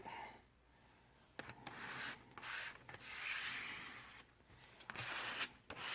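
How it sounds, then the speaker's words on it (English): Credit card scraping orange paint across paper for a kitten-themed artist trading card, a series of close, dry rasping strokes in irregular bursts with brief pauses between, heard alone without talk. "what I'm doing here with scraping this on with this credit card"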